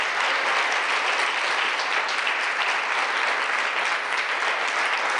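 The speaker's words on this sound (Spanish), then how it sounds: "¿Cuántos le damos el aplauso al Eterno?" A church congregation applauds steadily for about five seconds, dense even clapping from a full room with no speech over it.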